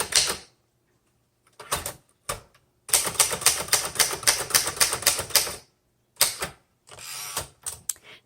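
Keystrokes on a 1971 Remington Ten Forty manual typewriter, loud and close: a few scattered strikes, then a fast, steady burst of rapid clacks, followed by more isolated key hits near the end.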